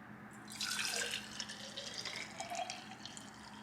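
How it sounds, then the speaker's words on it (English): Fresh juice of beet root, apple, ginger and lemon is poured into a glass, giving a soft, close, gurgling trickle that swells briefly and then settles into a quieter flow. "But let's pour some juice for you guys."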